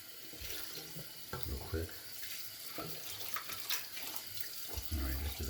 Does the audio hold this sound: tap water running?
yes